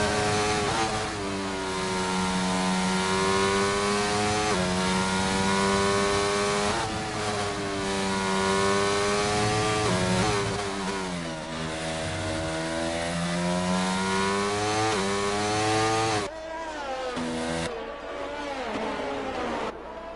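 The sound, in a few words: Alpine F1 car engine (Renault-powered) in a racing video game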